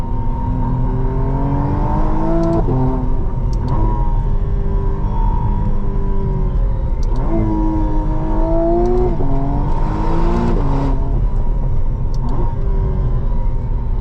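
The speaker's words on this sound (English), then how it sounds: "sometimes McLarens in sport mode make cooler exhaust notes" A 2025 McLaren Artura Spider in sport mode revs hard from the cabin, a loud, close exhaust note climbing and dropping between gear shifts with brief ignition-cut breaks and no talking.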